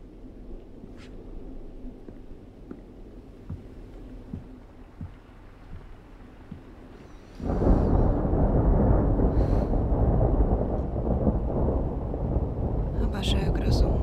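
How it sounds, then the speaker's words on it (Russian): A summer thunderstorm breaks suddenly: a quiet stretch with faint distant rumbles gives way to a loud, sustained roar of thunder and heavy downpour that fills the remaining seconds. "обожаю грозу."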